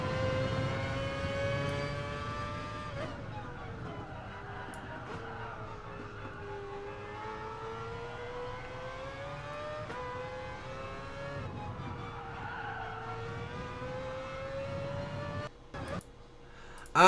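Mazda Vision car driving in a video game, a steady engine tone that rises and falls in pitch with gear changes, moderately quiet with a low rumble underneath.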